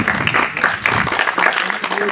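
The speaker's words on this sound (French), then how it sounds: "Vous pouvez l'applaudir, hein?" An audience claps in a lively, continuous burst of applause for a couple celebrating 51 years of marriage, close and busy with overlapping hand claps and a few voices mixed in.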